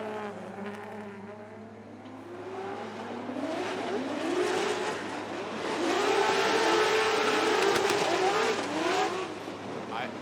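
A Formula Drift car engine at full throttle, held at high revs, its pitch sweeping up and down through gear changes, loud and continuous with a faint voice underneath.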